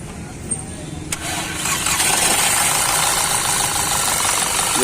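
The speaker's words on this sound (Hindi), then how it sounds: "मेरा गाड़ी स्टार्ट हो गया भाई, तो स्पार्क प्लग में भी करंट आ गया है और गाड़ी स्टार्ट हो गया है।" A Skoda Laura 1.8 TFSI turbo petrol engine being cranked and firing up after an ignition supply fault, a brief starter whirr catching into a loud, steady close-up idle with voices nearby.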